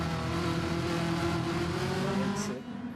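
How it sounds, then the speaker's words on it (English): Race cars in a racing video game at the Red Bull Ring roar past in a loud, sustained engine drone with steady harmonic tones that shift slightly in pitch, fading near the end. "But as these cars come out, it's really loud."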